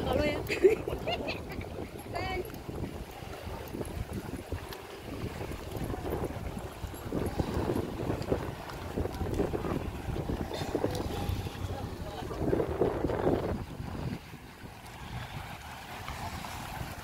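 On a fast boat crossing from Sanur, Bali to Nusa Lembongan, a low engine rumble runs under gusty wind noise and splashing water, with people talking throughout.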